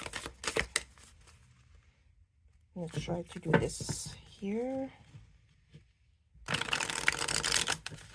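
A 40-card fairy oracle deck of simple cardstock is shuffled in crisp, rustling bursts at the start and again near the end, with a person speaking briefly in between.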